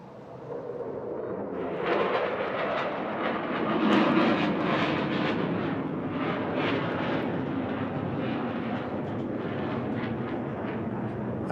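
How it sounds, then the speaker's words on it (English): A Eurofighter Typhoon jet roars past at an air festival display, a loud, sustained broadband engine rumble pulling up with heavy power, steady and close throughout with no talk. "This is Turbo in the Typhoon."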